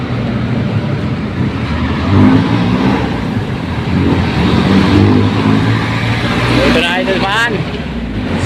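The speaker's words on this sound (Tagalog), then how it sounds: "sinalubong na natin yung mga sasakyan na nag counterflow" Heavy road traffic, including cars and large buses, passes continuously along Commonwealth Avenue near the MRT 7 construction site, a loud steady roadway rumble with a vehicle surging closer near the end, while someone talks over it.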